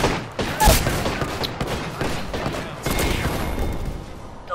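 Rapid bursts of gunfire in the battle royale shooter Apex Legends, loud and close, with sharp overlapping shots in a dense volley that barely lets up.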